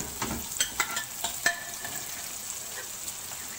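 Beef meat goes into a prepared masala for a stew and starts frying, with a soft sizzle and several clattering stirs and scrapes early on, then a quieter low hiss.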